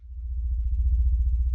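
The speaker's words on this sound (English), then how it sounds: "The rubber tire sound." Rubber tire squeak pitched down into a deep, growling rumble for an alien dragon roar, a loud low pulsing drone swelling in over about a second and a half with a fluttering texture.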